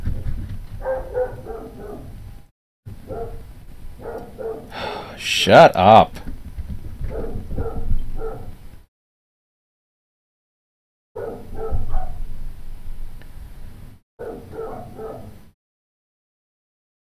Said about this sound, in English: you got dogs running around up there